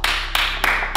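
A few people clap in bursts for a trained dog, a short run of near, fairly loud claps with brief pauses between them.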